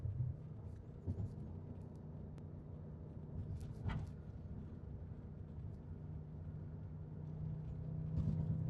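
A 2006 Audi S4 Avant wagon, lowered on coilovers with Quattro drive, cruises in fourth gear, giving a steady low engine and road drone from inside the cabin that swells slightly near the end.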